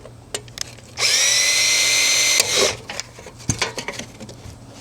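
A power drill whines at high pitch for about a second and a half while drilling out a rivet on a car door panel, then cuts off with a short grinding burst, followed by light metallic clicks and taps.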